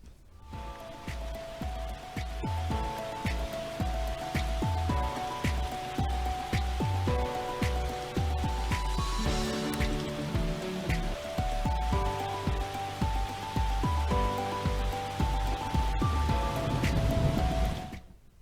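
Steady, dense patter of heavy rain with no voices, a continuous wash of drops striking surfaces throughout.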